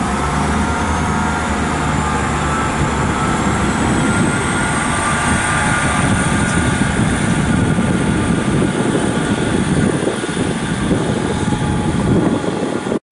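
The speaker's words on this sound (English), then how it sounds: "Right, we got ourselves a special train." A special train passes through Patchway station on the South Wales Main Line in the evening, a loud continuous rumbling roar of heavy wheels and engine holding close for over twelve seconds before cutting off.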